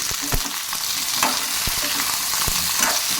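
Tomatoes fry in hot oil for Rayalaseema-style peanut chutney, a loud, close, steady sizzle broken by the sharp scrapes and taps of a spoon stirring the pan, with no voices.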